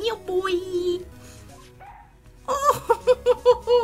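Cartoonish dog yips and barks from the Phoenix Wright Ace Attorney courtroom game, a quick run of short, bright barks following a stretch of game music and a pause.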